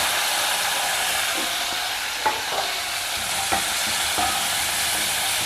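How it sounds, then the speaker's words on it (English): Peeled, chopped sweet potato is stir-fried in a pan with hing and curry leaves, giving a steady frying hiss with a few faint scrapes and taps of a spatula against the pan. "Just stir fry it"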